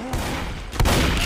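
Gunfire from shooting zombies in the video game Left 4 Dead, a dense burst of loud shots with a stronger blast near the end, heard alone with no talk.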